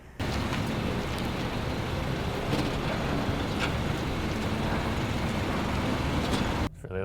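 An old car with 130K miles on it idles steadily after starting, a dense, loud broadband engine rumble that runs almost unbroken before cutting off near the end.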